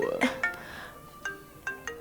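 A mobile phone rings with a short electronic melody of bright tonal chirps that repeat in quick bursts and pauses, fairly close and clear above a quiet background.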